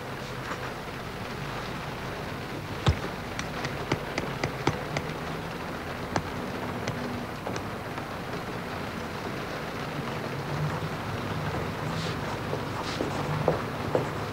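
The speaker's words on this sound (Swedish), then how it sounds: "men det regnar" Steady rain patters outdoors with scattered drips and taps, a continuous wet hiss with no voices.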